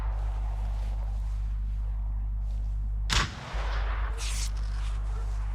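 A single gunshot bursts out of steady low electronic hum in a ranked shooting video game, followed by a brief metallic sound.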